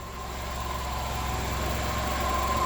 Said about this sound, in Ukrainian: Двіжка працює.